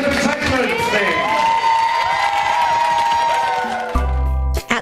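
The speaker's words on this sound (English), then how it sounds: "what about a nice big round of applause for your Pink Coat Entertainment team" Holiday camp guests applaud and cheer their entertainment team, loud clapping mixed with whoops and excited shouting from a lively crowd, ending with a brief burst of music.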